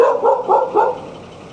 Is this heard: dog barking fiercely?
yes